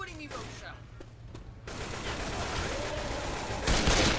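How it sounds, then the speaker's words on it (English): Gunfire in the zombie shooter Left 4 Dead 2, a dense crackling fusillade that swells after a quieter opening and holds steady, with a sharp burst near the end, mixed under game noise. "Stop shooting me, Rochelle."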